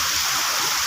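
Water rushes strongly in a dense, steady broadband hiss, loud and close, with no pauses and no voices over it.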